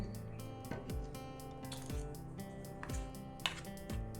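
Crushed pepper and fennel are stirred with a spoonful of water into a wet paste, giving soft, close squishy scrapes in a slow repeating rhythm, quiet and alone.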